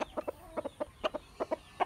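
Gamefowl chickens cluck in a backyard in quick, short bursts, about a dozen sharp clucks close by in under two seconds.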